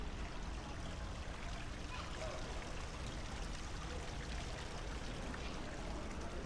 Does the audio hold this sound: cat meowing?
no